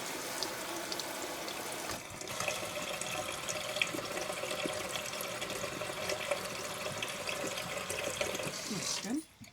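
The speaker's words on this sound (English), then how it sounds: "Rinse all that stuff out." Running water from a faucet rushes steadily into a sink as it is rinsed out, a close continuous splashing wash that cuts off abruptly at the end.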